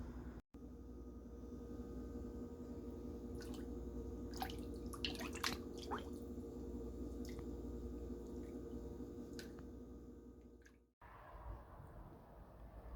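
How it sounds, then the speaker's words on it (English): A kitchen sink fills with clean water mixed with dye fixative for rinsing dyed shirts, a steady rushing pour with scattered splashes and drips that cuts off abruptly near the end. "I'm going to fill up that side of the sink with clean water and some dye fixative"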